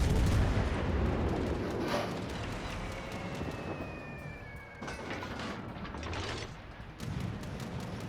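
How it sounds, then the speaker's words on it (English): Anti-aircraft guns on a cruiser in World of Warships Legends fire in a dense, loud, continuous barrage of overlapping booms and pops that keeps going across the whole stretch, with a few sharper bursts standing out. "Anti-aircraft guns firing."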